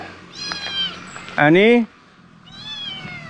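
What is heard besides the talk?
kitten meowing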